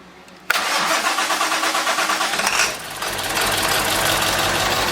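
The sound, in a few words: old Ford engine cranking and starting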